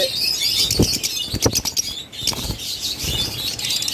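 Lovebirds and cockatiels in shop cages flutter and flap in quick, uneven bursts at close range, with faint chirps scattered among the wingbeats.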